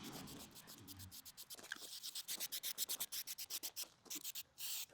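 Two-part filler on painted parts of a reproduction machine is sanded by hand in quick, rhythmic back-and-forth rasping strokes, close and fairly quiet, with brief pauses between bursts.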